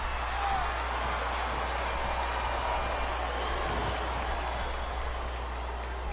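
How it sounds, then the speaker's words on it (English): Steady, dense crowd roar in the wrestling video game WWE SmackDown vs Raw 2007 fills the space throughout, a constant wash of cheering and murmuring with a low hum underneath and no distinct voices. "Sounds like this crowd's got something on their minds, King."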